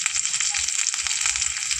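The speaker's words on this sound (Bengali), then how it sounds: "আচ্ছা, এখন দিয়ে দেবো পেঁয়াজ।" Onions sizzle steadily in hot oil in a wok with cumin seeds, dried red chillies and bay leaves, a dense close crackle with faint stirring and no speech.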